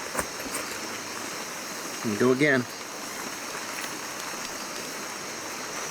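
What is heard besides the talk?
rain falling in the Ecuador jungle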